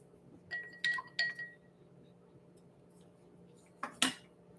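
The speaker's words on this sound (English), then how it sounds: "we'll give our coffee a stir." A spoon stirs grounds in a Hario pour-over brewer, producing a few light clinks and taps against the glass cone in two short bursts separated by quiet.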